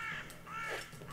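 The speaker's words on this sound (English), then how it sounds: "I think it's a raven," A large raven calls from nearby outdoors in rainy weather, a few hoarse, croaking caws in quick succession, fairly faint with no talk.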